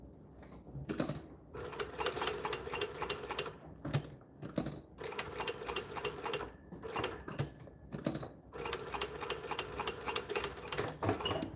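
A sewing machine runs in long steady bursts, stitching fabric for scrap-busting quilt work, its rapid mechanical whirr pausing briefly several times between runs.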